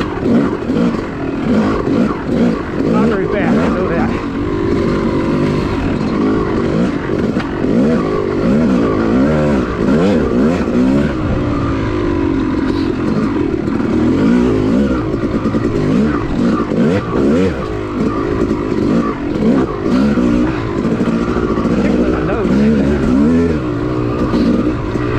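An off-road motorcycle engine on the Manchester OHV cycle trail revs and roars continuously at close range, rising and falling as the rider works through the gears for about 25 seconds, loud and unbroken.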